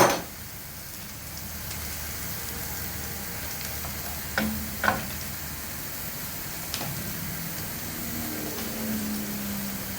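Chicken strips with garlic, salt, black pepper and olive oil sizzling steadily in a pan, with a few scraping stirs from a utensil standing out over the constant frying hiss; no talking.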